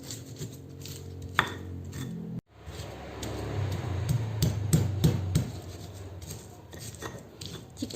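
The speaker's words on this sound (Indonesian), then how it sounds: "Untuk membuat sambal kaki udang, kita akan ulek dulu ya teman-teman." Fried shallots, garlic and large and small chilies are coarsely ground with a stone mortar and pestle for Indonesian sambal kaki udang, giving repeated gritty scrapes and dull knocks at close range, with a brief pause partway through.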